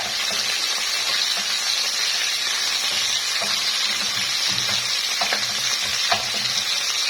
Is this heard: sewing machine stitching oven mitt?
no